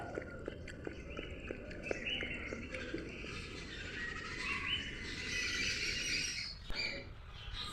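Several birds chirp and squawk from trees close by, with sharp calls repeating through the first half and steadier high twittering later, over a low outdoor background.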